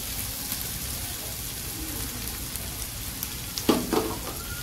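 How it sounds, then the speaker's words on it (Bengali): Rice fries in a pan with a soft, steady sizzle throughout, and a brief clatter of stirring comes near the end. "আমরা কিন্তু ভাত ভাজবো"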